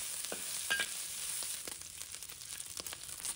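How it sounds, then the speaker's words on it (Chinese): Pork belly, shiitake mushrooms, squid and shrimp stir-frying in a wok, heard as a faint, continuous crackling sizzle with soft tossing and scraping, no speech. "五花肉炒香后，再把香菇、鱿鱼、虾放入锅中，继续炒香"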